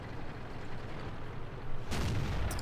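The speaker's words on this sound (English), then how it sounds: "See if we can get a shot into him." A tank cannon shot from an IS-8 heavy tank in World of Tanks, a sudden loud boom near the end that breaks a steady low rumble of engine and battlefield noise.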